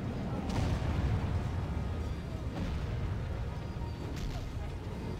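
Hellblaster volley guns of the Empire blasting away in a Warhammer battle against trolls, a dense, continuous roar of battle with several sharper booming volleys standing out over rumbling low-end noise.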